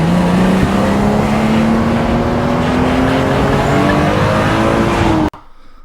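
BMW M3 with its S50 straight-six engine, heard from inside on the move: a loud, steady engine drone with rising pitch as it accelerates, ending abruptly near the end.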